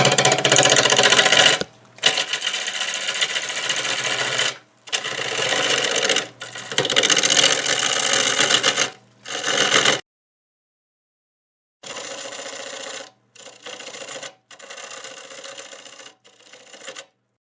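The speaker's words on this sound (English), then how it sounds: "we'll go back to a bowl gouge" A bowl gouge cuts into a spinning pear crotch bowl on a wood lathe, loud buzzing bursts of cutting broken by short pauses, a longer silent gap, then quieter stretches of cutting.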